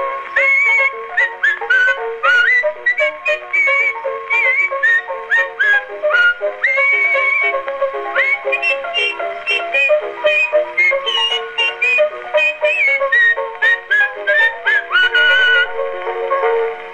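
Someone whistles a lively melody close up on an Edison cylinder phonograph recording of a coon song, clear bright notes running continuously in a quick, bouncing rhythm.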